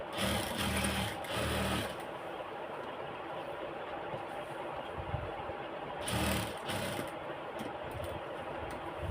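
A tailor's sewing machine runs steadily, stitching a top stitch on georgette fabric, its motor whirring continuously with a slightly stronger buzz at the start and again near the six-second mark.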